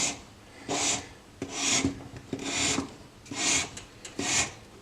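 A hand file rasps across a metal scalloped spacer for a dagger in five steady, close strokes, each a bright scraping burst followed by a short pause.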